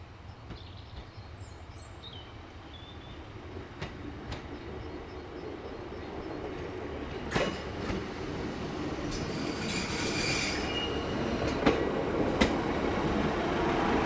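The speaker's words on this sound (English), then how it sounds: "here's 150-233 pulling into Platform 3 with the 1106 ex-Looe service" Class 150 diesel unit 150-233 pulls into Platform 3 on the Looe Valley Line, arriving as the service from Looe: a low rumble that gradually grows louder, with high wheel squeals and occasional clicks, and no talking.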